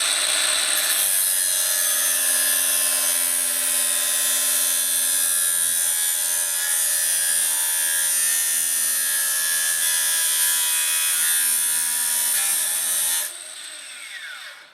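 A Makita 40v 9-inch brushless angle grinder runs at a loud, steady high-pitched whine for about thirteen seconds, then spins down and fades out at the end.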